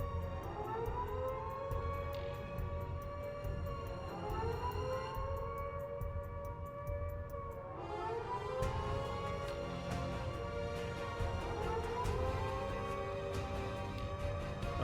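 Attack siren ringing out over the city of NLA in Xenoblade Chronicles X: a civil-defense wail rising and falling in four long sweeping cycles, loud and continuous over a low background rumble.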